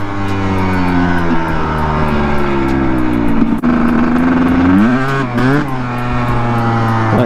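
Kawasaki KDX dirt bike engine revving hard in second gear, a loud, close two-stroke wail that holds steady then climbs and drops through several sharp rev surges.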